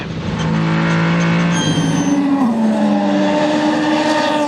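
A Ferrari race car at the Le Mans 24 Hours roars close and loud, its engine note climbing and shifting through gears at high speed with a steady, sustained howl.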